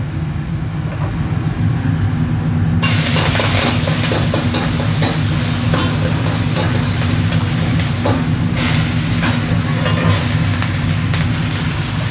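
Potato strips stir-fry in a shop's frying pan with a loud, continuous sizzle and a dense scraping, rattling texture. The sound grows brighter after a few seconds and carries on steadily with no talking.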